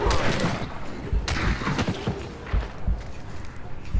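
A gunshot rings out in the Hunt: Showdown video game, a sharp broadband crack amid rumbling game ambience and other thuds.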